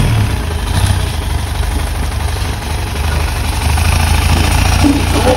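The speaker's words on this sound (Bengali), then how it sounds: "এবং ইঞ্জিনের সাউন্ডটা কিন্তু অনেক স্মুথ।" A Yamaha Fazer V2 motorcycle engine runs at a steady idle after being rebuilt, a continuous low rumble that stays fairly loud and close throughout, with no talking over it.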